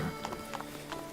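Galloping horse hooves in The Witcher 3 beat in quick repeating clusters, close and steady over a droning background.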